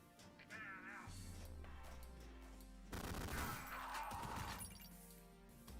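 Video game gunfire in the retro shooter Ion Fury bursts in rapid volleys with crashing, shattering impacts over game music, quite faint overall.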